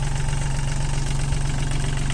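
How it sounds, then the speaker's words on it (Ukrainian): A small 35-horsepower tractor engine runs steadily at a low, even chug, loud and close, with no speech over it. "Працюємо таким маленьким тракторцем"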